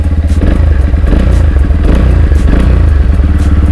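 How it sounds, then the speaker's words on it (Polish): Close up, a Romet Adventure 125 motorcycle engine idles with a loud, steady, rapid putter, mechanical clatter ticking over the even low pulse throughout. "Poziom hałasu motocykla."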